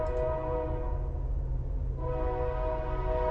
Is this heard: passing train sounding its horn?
yes